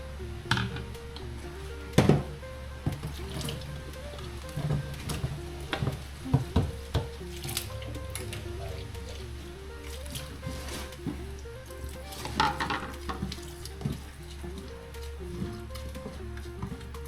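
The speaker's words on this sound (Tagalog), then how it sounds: "nagigisa na ako" Ingredients for Bicol Express sauté in a hot pan with steady sizzling and occasional stirring scrapes, continuing throughout with faint voices or music underneath.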